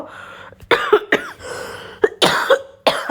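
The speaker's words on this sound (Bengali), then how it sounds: "সরি আমার এখানে এখানে কাশি হয়েছে" A person with a sore throat coughs in several sharp, close bursts at an irregular pace, with short pauses between them and some throat clearing, during a family gathering at the in-laws' home.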